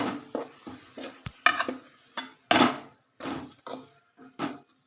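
A spoon clinks and scrapes in a pan as salt is stirred into spinach gravy, with irregular close metallic taps and scrapes separated by short pauses and no talk.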